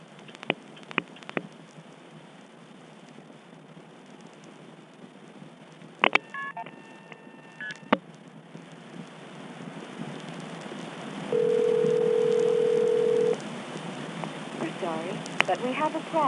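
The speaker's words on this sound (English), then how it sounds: "I'm going to dial 1+ a vacant code," Touch-tone DTMF dialing on a 1976 telephone line, a quick burst of paired tones followed by a second short burst, over a noisy, hissy line with faint background sounds.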